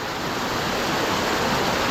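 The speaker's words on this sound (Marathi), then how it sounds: "ह्याच्यावरून जेव्हा पाणी पलटी होतं ना तेव्हा लय भारी वाटतं." Water pouring over a weir in a stream channel after the first monsoon rains in Konkan, a dense, unbroken roar of falling water, close and loud, with no talking.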